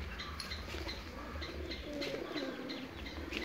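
Pigeons kept in a cage inside a home coo softly and continuously over a dense background murmur, with faint chirps scattered through.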